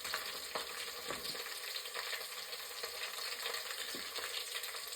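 Onions and chillies fry in a pan for a village-style khichdi masala, a steady close sizzle with occasional stirring scrapes and no voices.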